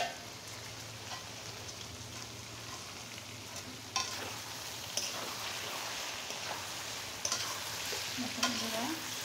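Vegetables and a hilsa fish head sauté in oil in a pot, a steady sizzle with several sharp scraping stirs of a spoon, close and without talk.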